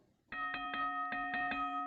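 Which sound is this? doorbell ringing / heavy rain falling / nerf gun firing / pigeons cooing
doorbell ringing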